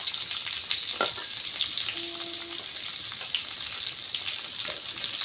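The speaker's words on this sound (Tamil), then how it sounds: "கருவேப்பில்லை இது எல்லாத்தையும் சேர்த்து நல்லா எண்ணெயிலே வதக்கி விட்டுடலாம்" Fenugreek, onion, garlic and curry leaves sauté in hot oil, producing a steady close crackling sizzle with occasional stirring clinks and no talking.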